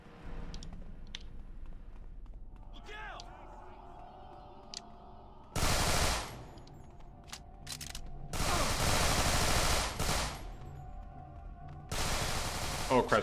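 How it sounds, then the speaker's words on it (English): Gunfire in a stealth video game: sharp bursts of rapid shots erupt in several loud clusters amid quieter background game sounds. "Oh crap, someone's shooting behind me."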